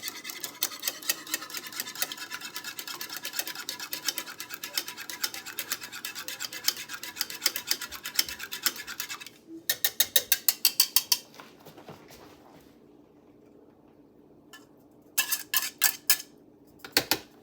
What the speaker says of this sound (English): I'm now going to whisk my huevo